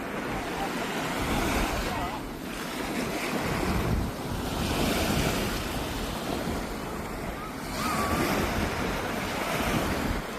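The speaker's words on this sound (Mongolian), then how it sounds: "Далайн ирэг дээр ирлээ." Ocean waves wash onto the seashore in repeated surges under strong wind buffeting the microphone, with swelling and receding roars.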